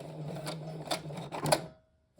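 A sewing machine that is malfunctioning after re-threading stitches in short bursts, with a mechanical whir and three or four sharp clacks. Then it stops abruptly into near silence.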